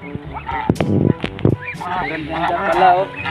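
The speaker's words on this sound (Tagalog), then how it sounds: "Pato to, pato." Ducks on a rural Philippine farm give several sharp, nasal honks close by, in uneven bursts, while people talk over and between the calls.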